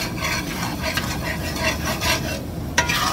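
Flour stirred into hot oil for gravy, a continuous near scraping and rubbing of the utensil through the thickening mixture under a faint sizzle, with one sharper scrape near the end and no talking.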